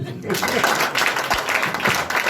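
An audience applauds the musicians at a festive gathering, with loud, continuous clapping and cheering, and voices calling out within the crowd.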